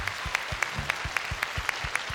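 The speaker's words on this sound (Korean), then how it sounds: "여러분 박수를 부탁드리겠습니다" A studio audience at a Korean TV music show applauds in a steady, rhythmic beat, with regular clapping pulses and low thumps at an even tempo throughout.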